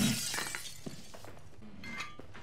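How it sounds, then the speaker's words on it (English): Glass shatters in the Hello Neighbor 2 video game after an item is thrown, with a bright crash at the start followed by scattered tinkling shards and clinks trailing off. "You need to throw any item to break the glass"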